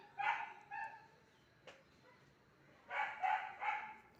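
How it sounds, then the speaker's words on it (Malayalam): A neighbour's dog barks in two short clusters of sharp, fairly close woofs, a pair early and a quick run of three near the end, with quiet pauses between. "അപ്പുറത്തെ വീട്ടിലുള്ള പട്ടി കിടന്ന് വിളിക്കണം"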